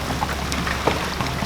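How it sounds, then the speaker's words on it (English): Steady rain falling outdoors, a dense patter of drops hitting surfaces with a few louder splashes, close and continuous. "Is it actually hailing or is it just raining? I think it's raining right now."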